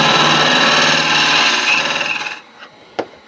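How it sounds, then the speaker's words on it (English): A wood lathe parting tool cuts into a turned wooden holder for a glass jar candle, giving a steady close scraping whine for about two seconds before it stops, followed by a couple of light knocks. "Right, I'm in there with a parting tool."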